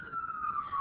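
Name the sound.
siren in downtown Baltimore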